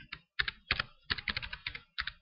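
Typing on a computer keyboard while entering an email address, with short bursts of crisp, close key clicks separated by brief pauses.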